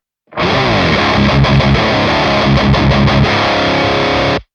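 Distorted electric guitar lead tone through a Nano Cortex capture of an SDS SpecEd Quad amp on the lead 2 channel with the mid-edge switch on, played loud and sustained for about four seconds with no talking.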